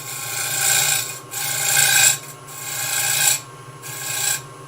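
A woodturning tool cuts a rim on a piece spinning on the lathe, giving four rasping, scraping passes of a few seconds each, separated by short pauses, close and alone over a low motor hum.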